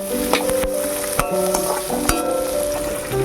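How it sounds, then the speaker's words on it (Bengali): Onion and green chilies fry in a pan, a constant loud sizzle broken by several sharp clinks and scrapes of a stirring spoon against the metal, close up, no talking. "এটা কিন্তু একটু লাল লাল করে ভাজা করে নিতে হবে"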